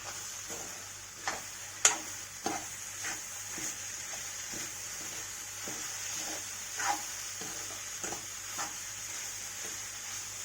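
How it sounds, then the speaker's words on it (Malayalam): Cooked jackfruit seed and spinach thoran stirred in a pan: soft scattered scrapes and taps of a spoon over a faint steady hiss, with no talk. "നന്നായിട്ട് ഇളക്കാം"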